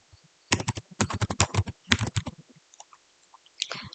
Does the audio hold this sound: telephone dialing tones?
no